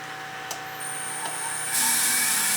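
A CNC router spindle in a workshop spins up toward 18,500 RPM, a thin high whine rising in stages and then jumping to a loud, bright sustained hiss, with a couple of brief clicks at the start.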